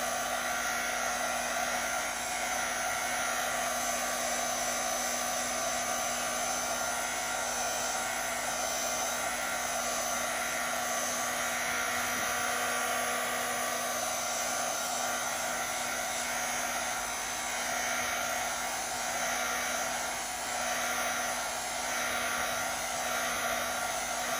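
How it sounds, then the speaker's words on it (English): Heat gun running on its low setting over a watercolor tissue-paper card craft, a steady airy blowing hum with a constant tonal whine, unbroken for the whole stretch with no speech. "I have my heat gun on its lower setting for doing this,"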